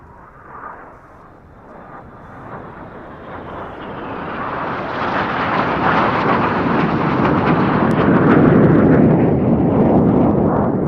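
Red Arrows jets of the synchro pair roar past upside down at an air display, a loud, swelling jet rumble that builds steadily over several seconds and stays heavy and close, with wind buffeting the microphone.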